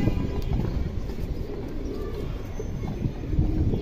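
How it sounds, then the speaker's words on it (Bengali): Indian high flyer pigeons of the khaki dum type cooing softly in a low, continuous murmur, with steady background noise and no clear talk. "একবার পিওর খাকি দমের কবুতর অথবা সিলভার দম যেটাই বলেন"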